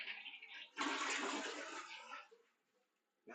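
A toilet flushes nearby in a single rushing surge of water that builds sharply, then drains and fades to near silence within a couple of seconds.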